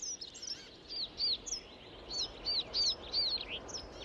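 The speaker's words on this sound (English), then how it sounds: "Under the first glints of dawn, birds sing as if to celebrate the arrival of good weather." Several birds chirp and whistle at dawn in spring in Norway, in short rising-falling phrases repeating every half second or so, fairly faint over a quiet outdoor background.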